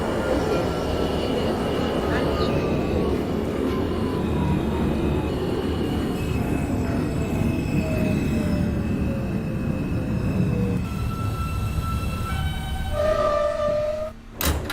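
An R160 subway train on an F local run in a simulator rolls steadily along the rails with a continuous low rumble and faint high wheel tones, ending in a brief squeal and a drop near the end.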